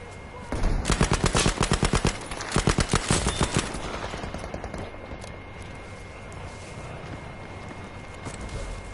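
Rapid automatic gunfire from a video game rattles in two tight bursts of evenly spaced shots near the start, then fades into a lower background rumble with no further shots.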